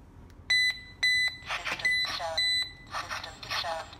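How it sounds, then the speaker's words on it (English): An AG-Security DP-K7 GSM home security alarm panel sounds repeated loud electronic beeps in short bursts, with a voice speaking over and between the tones. "Disarm the alarm."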